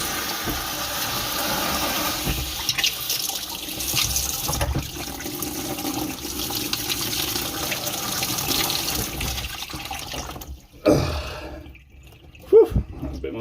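Water pouring and splashing from the pipework while a kitchen sink unit is removed, a steady running flow that thins out and stops, followed by a couple of sharp knocks.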